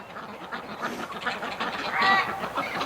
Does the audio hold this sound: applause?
no